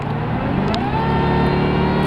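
Supercharged engine of a Jaguar XKR convertible accelerating, a smooth steady rising drone heard from inside the car, loud and continuous with a gentle climb in pitch and no talk.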